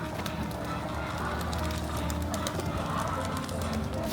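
Pigeons gather in Panfilov Park in snowy Almaty, with soft cooing and fluttering wings heard close amid a busy outdoor murmur and faint background voices.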